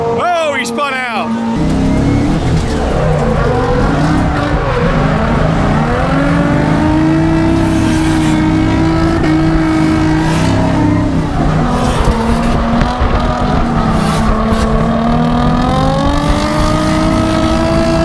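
An LS1-swapped Nissan S13 spins out during a tandem drifting run, its engine droning and shifting pitch with tire noise throughout, while people talk over it.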